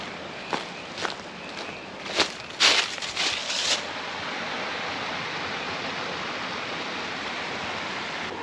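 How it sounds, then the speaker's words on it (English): Steady broadband rush of creek water flowing beside a hiking trail in Alabama, continuous and moderately loud, with a few soft footsteps crunching on the trail during the first half. "I've been hiking by a creek."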